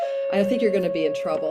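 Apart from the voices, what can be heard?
doorbell ringing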